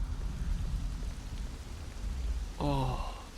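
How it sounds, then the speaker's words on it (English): Steady rain hisses in the Devil May Cry 3 game, a broad constant wash of falling drops, with a short voiced sigh-like tone rising near the end. "We are already be up and it rains."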